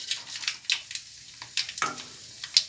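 Mustard seeds crackle and pop in hot oil in a kadai, tempering for coconut chutney: faint, scattered sizzling bursts close by, with no talking.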